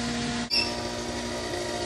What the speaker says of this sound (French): Il passe la tondeuse,